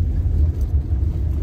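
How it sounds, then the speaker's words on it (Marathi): Low rumbling road traffic in a jam near Durgadi Fort in Kalyan, a steady close engine drone heard briefly, likely from inside a car. "ट्रॅफिक लागले."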